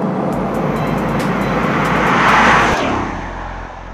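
A 2017 Bugatti Chiron accelerates hard at very high speed, its engine roar swelling to a loud peak with rushing wind and road noise before easing slightly, heard alone.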